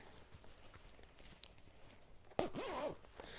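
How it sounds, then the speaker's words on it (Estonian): A small silver zipper is pulled open or shut close to the mic in one quick rasping run, after a stretch of quiet handling. "Siuke hõbedase lukukesega."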